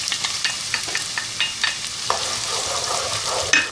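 Onions, garlic and carrots sauté in hot oil in a pan, a steady close sizzle with rhythmic stirring scrapes and clicks throughout.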